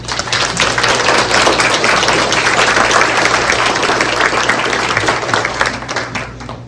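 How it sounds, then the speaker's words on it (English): Round of applause at a school district Hall of Honor induction ceremony, a full room clapping steadily for about six seconds before tapering off, with a low hum underneath. "So I just give a special round of applause if you would, Miss Heather Kilgore."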